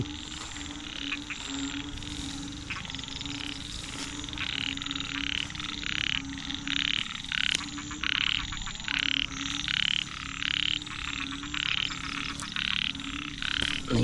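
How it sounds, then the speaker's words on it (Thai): Many frogs croak in water on the night of the first rain of the year, a dense, loud chorus of rapid pulsing calls repeating in bursts over a steady insect-like background. "อุ้ยกบเต็มเลยครับผม"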